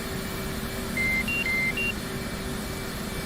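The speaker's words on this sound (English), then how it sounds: "That's the master caution tone." A short beeping master caution tone in an F/A-18C Hornet cockpit flight simulator, a few brief electronic beeps of alternating pitch over a steady engine hum.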